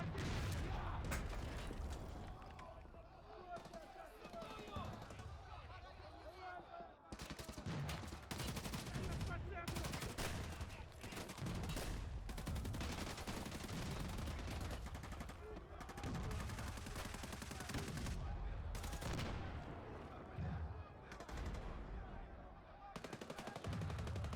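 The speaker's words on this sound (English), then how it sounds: "It's a lot of gunfire." Sustained heavy gunfire rages through a cutscene of the shooter game Escape for Humanity, with long bursts of automatic fire and rattling mechanical clatter, loud and nearly continuous, broken only by brief pauses.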